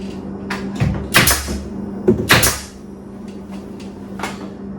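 A hammer drives nails into the back of a wooden wine rack, giving a few sharp, close knocks in two clusters with quieter taps around them. No voice is heard.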